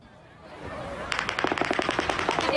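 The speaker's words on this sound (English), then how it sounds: "They make semi-automatic weapons fire like an automatic weapon." A semi-automatic rifle fitted with a bump stock fires in a fast, ragged burst of about a dozen sharp reports, distant and echoing, following a brief rising murmur, as if at a mass shooting at an outdoor event in Las Vegas.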